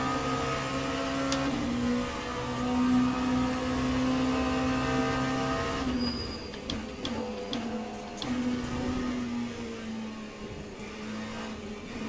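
LMP2 prototype race car engine in the Le Mans Ultimate sim racing game at Sebring in the rain, a steady droning high-revving tone that shifts down partway through, heard continuously without talk.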